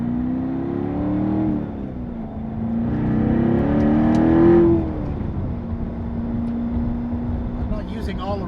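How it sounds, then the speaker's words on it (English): A 2014 Chevrolet Corvette Stingray Z51 accelerates through its gears with a throaty exhaust note, revs rising, dropping at a shift, then climbing and easing off, heard from inside the car with some talk. "As you can hear, a little throatier note to the exhaust."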